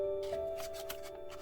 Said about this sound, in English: Flip the paper over